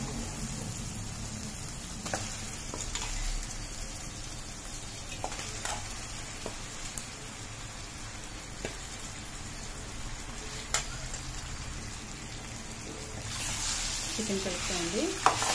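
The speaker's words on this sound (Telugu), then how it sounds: "అప్పుడు చికెన్ వేసుకొని కలిపిస్తున్నాం." Chicken fries with tomato and onion in a pan, a continuous sizzle broken by occasional sharp utensil taps and scrapes as it is stirred.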